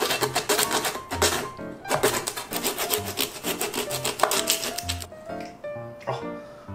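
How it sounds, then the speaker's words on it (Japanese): Hand saw rasping back and forth through the hard head of a large tuna, loud close strokes in a steady repeated rhythm that slows near the end. "ノコギリだな。"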